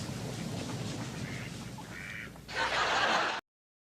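Duck calls blown by hand give a few short nasal quacks, followed by a louder, rougher burst of calling that cuts off abruptly.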